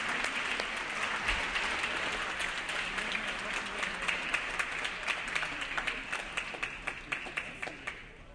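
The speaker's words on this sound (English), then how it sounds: "Can you please give them all a round of applause?" Applause fills a state assembly chamber from the floor and gallery, a broad, steady wash of many clapping hands that thins into a few distinct, slower claps at the end.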